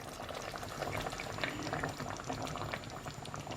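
Stock and water pour steadily into a cooking pot for homemade bolognese, a continuous soft splashing gush of liquid with no voices.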